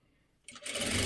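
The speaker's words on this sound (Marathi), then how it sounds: "हे पहा, इथून शिलाई देऊन घ्यायची." A sewing machine starts up from silence and runs steadily at speed, stitching blouse fabric with a fast, even whir that grows louder and holds.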